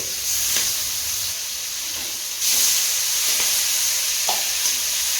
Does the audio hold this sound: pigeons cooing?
no